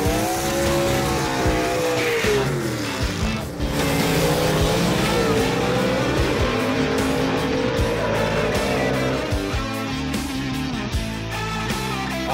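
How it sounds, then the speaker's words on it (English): Vintage gasser drag cars launch and rip through gears, engines screaming loud with rising and falling pitch on each shift, tires squealing, sustained and close for about twelve seconds. "These guys will be ripping through gears for all of you to hear the high-pitched noises."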